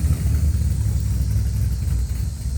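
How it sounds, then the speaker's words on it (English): A work truck with a hot rod motor rumbles by nearby, a deep, steady engine growl that stays loud from start to finish with no voices over it. "Work truck with a hot rod motor."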